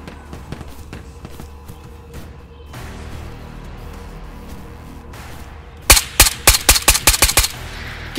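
Video game gunfire during a solo raid on Island of Tabor, scattered distant shots and footsteps at first, then a loud close burst of about ten sharp rapid shots toward the end.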